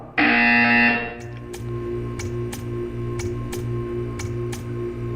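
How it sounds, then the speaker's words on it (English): A loud electronic buzzer in the Portal 2 video game sounds for about a second, then gives way to a low humming room tone with a steady series of soft ticking clicks. "You will hear a buzzer."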